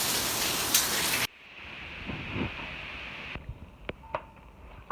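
Rain in Cyprus falling as a steady hiss, first heavy and close, then softer with scattered drips and taps on nearby surfaces.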